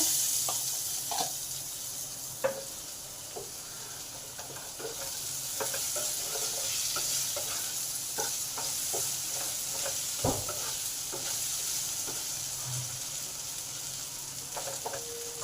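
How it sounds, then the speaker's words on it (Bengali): Potatoes fry under a lid in a pan, giving a steady, even sizzle with scattered small pops and crackles throughout, close and moderately quiet, with no voices. "চাপা দিয়ে দিলাম পাঁচ থেকে ছ মিনিট যাতে আলুটা ভালোভাবে ভাজা হয়"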